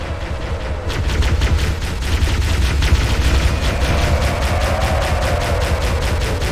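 Rapid automatic gunfire aimed at Banshee aircraft in Halo: Combat Evolved, a steady stream of loud, evenly spaced shots that starts after a brief pause and continues to the end, with no talking.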